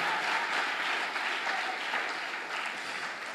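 A church congregation at a Sunday service applauds the Lord, sustained dense clapping at steady volume that fills the room with no voices over it.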